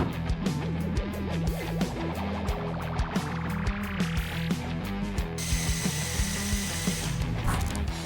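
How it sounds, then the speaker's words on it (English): A power drill whirs steadily, drilling holes in a wooden frame, with ratcheting, rising pitch sweeps as the bit bites in, then a higher sustained whine near the end; close and loud. "we're drilling holes in the frame itself"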